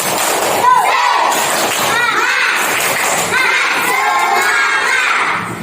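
Classroom of children shouting the tepuk semangat clapping chant in unison, loud and close, with rhythmic voices and claps running nearly the whole time.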